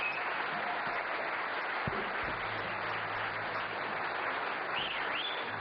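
A forum audience applauds at length after a speech by the director of Voice of the Family, a dense, steady wash of clapping that holds evenly throughout.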